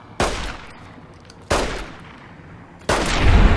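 Gunfire in the video game Fallout: New Vegas: three loud, booming shots spaced about a second and a half apart, each with a long reverberant tail, the last followed by rumbling.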